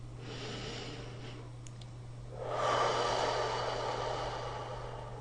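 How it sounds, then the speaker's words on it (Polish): A quiet breath in through the nose is followed by a long, loud exhale through the mouth during a breathing exercise, the airy rush swelling in the second half and lasting to the end. "Rób wdech nosem i długi, głośny, wydech ustami."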